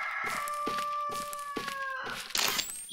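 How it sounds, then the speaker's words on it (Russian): A rooster crows in the Dreadout 2 video game, one long drawn-out crow with a stretched, wavering tone, heard fairly close over a rhythmic background and ending in a brief noisy burst. "петухи какие-то? Тут еще есть живые создания?"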